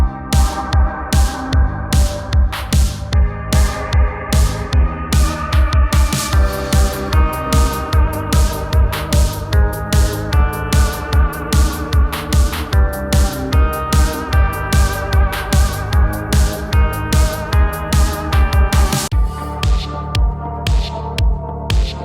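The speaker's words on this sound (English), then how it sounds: "what you just heard was a quick preview of this next beat" A post-punk beat built from drum one-shots pulses in a steady driving rhythm, with heavy thumping kicks and sharp hits over a dense, distorted backdrop, loud and continuous for the whole stretch.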